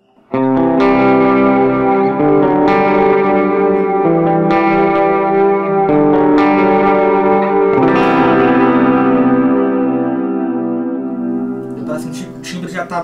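Electric guitar played on the bridge pickup through a clean chorus preset on a Mooer GE200, with a series of bright strummed chords that swell and ring with a lush, echoing shimmer, loud and steady before a final fade.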